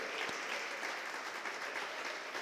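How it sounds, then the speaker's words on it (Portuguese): Church congregation at a worship service applauding, a steady, fairly faint wash of many hands clapping together, diffuse and roomy with no clear voices above it. "Você pode aplaudir ao Senhor?"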